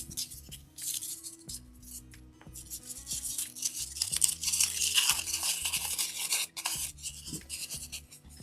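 A sheet of leather-look material from Dollar Tree is crumpled by hand for a valet tray, giving close, continuous rough crinkling and rasping rustles that swell and fade without any talking.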